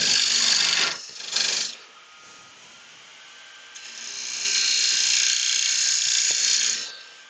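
Record Power parting tool cutting a mortise into a wooden bowl blank spinning on a lathe, hissing scraping bursts of cutting separated by a quieter running hum, close and steady.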